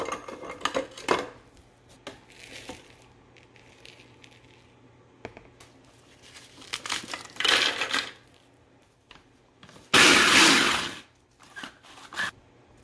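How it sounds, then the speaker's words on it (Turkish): Biscuits crushed inside a package give off bursts of crackling and crunching, with a few sharp crinkles early and a loud, dense crunching stretch near the end, and quiet gaps in between. "İkinci paket bisküviler ezildi."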